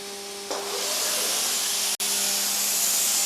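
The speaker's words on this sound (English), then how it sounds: "picking up a tool, the router bit that it's actually going to do the drilling with" A CNC router bit spinning up to drill a hot tub shell gives a steady, loud airy hiss that starts abruptly and runs on with one brief dropout, with no talking.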